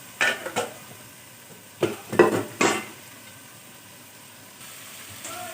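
Boiled chickpeas and potatoes are stirred in a pan, with several close, bursty scraping and clattering strokes in two quick clusters, followed by quieter stillness.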